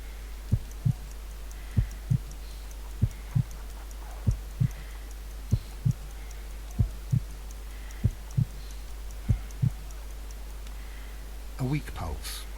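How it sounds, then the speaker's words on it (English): A heartbeat in the Sherlock Holmes: Crimes and Punishments video game thumps slowly and steadily, about ten deep, evenly spaced double beats over a low hum. The beats are close and clear, followed by a brief rustle at the end. "I need to concentrate and count the heartbeats."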